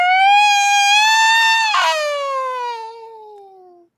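A person imitates a cat in heat with one long, wavering yowl that rises, breaks midway, then slides down and fades, loud and close with nothing else heard.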